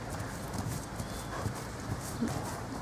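Hooves of a Criollo horse clip-clop softly and unevenly at moderate distance over a steady background hiss.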